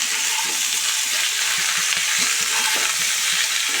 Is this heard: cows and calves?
no